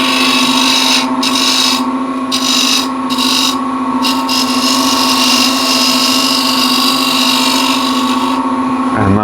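A woodturning lathe runs loud and steady while a turning tool scrapes the spinning wood at or just above center height, with a strong continuous whine and a rough scraping texture that breaks off briefly in several short gaps before stopping near the end.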